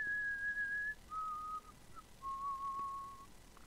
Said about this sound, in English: I'm not going to ask you how you're whistling without moving your lips.